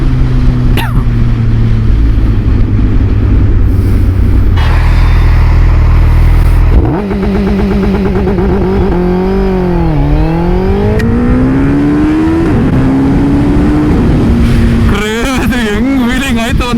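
A Suzuki Hayabusa and a Kawasaki Ninja ZX-10R launch hard and race, engines roaring loud and close with rising, falling revs and gear shifts, a sharp rev spike near the end.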